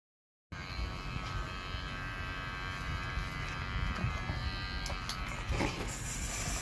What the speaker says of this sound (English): I've decided to shave my head in solidarity to stopping COVID-19